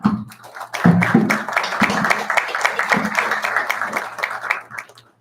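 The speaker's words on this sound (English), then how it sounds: "I think that students would join me in giving your families a round of applause" An audience gives a round of applause for students' families at a school morning assembly, a steady swell of clapping that rises quickly, holds for several seconds, then tapers off.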